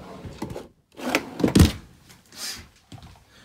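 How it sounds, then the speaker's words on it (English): Pull-out drawers in a 2016 Forest River Wildwood 261BHXL RV kitchen slide and thunk shut, several close wooden knocks and rolling scrapes over a few seconds with no talking. "Pull out drawers."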